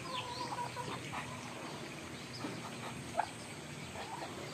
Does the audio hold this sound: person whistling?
no